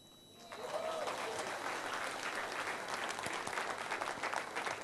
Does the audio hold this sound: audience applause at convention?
yes